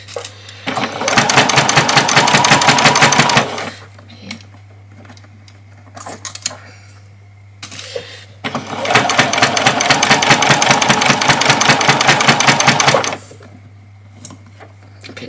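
A sewing machine stitches a doll's dress in two long, loud runs of rapid rattling needle strokes, separated by a quiet pause with light handling clicks and a steady low hum throughout.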